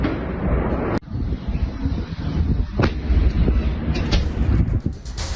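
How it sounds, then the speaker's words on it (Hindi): Russian bombardment in Kharkiv comes through as several sharp, heavy blasts spaced a second or two apart over a rough, wind-buffeted background rumble. "एक बार फिर आपको धमाकों की आवाज सुनवाते हैं किस तरह से धमाकों से दहल रहा है"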